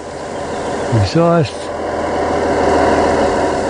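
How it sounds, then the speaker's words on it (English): Diesel locomotive engines idle in Train Sim World 4 with a steady low rumble, broken early by a short rising and falling electronic tone, then settling into an even, continuous hum. "Engines are running."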